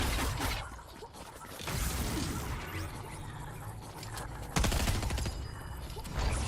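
Shooting in the Fortnite video game comes as a dense, noisy barrage of gunfire with whooshes and crashes, steady and fairly loud, with a harder burst near the end and no voices.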